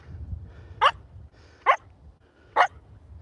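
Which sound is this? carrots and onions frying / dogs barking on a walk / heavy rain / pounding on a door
dogs barking on a walk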